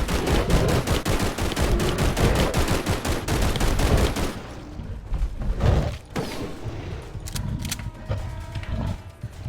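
Rapid gunfire in the Bigfoot video game: a fast, loud burst of repeated shots for about four seconds, then scattered single bangs, mechanical clicks and rattles as the firing breaks off.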